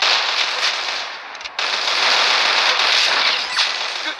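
Rapid bursts of gunfire from a Roblox shooter game, dense continuous crackling shots filling the whole stretch with one brief gap, loud and close, no talking.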